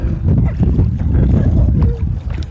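A small wooden rowboat is rowed along a river, with steady water churn and low rumble, oar splashes, and gusts of wind buffeting the microphone throughout.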